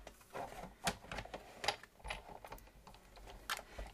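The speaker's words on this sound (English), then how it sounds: "Crank that through your Big Shot." Stampin' Up! petite purse die sandwich cranked through a Big Shot die-cutting machine, giving faint, irregular clicking and ratcheting taps spread over a few seconds with no talk.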